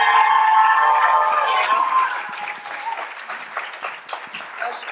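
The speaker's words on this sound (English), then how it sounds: "Please give a humongous round of applause for Allie." Audience applause welcoming a speaker onto a talk stage, a dense, sustained wash of clapping that starts full and gradually thins out over a few seconds with some cheering mixed in.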